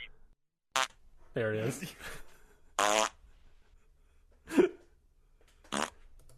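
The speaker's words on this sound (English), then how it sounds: "There's a couple of farts." A fart sound effect played back over a video call, a series of several short bursts, some wet and some rumbling, spaced irregularly, with a few brief spoken words between them.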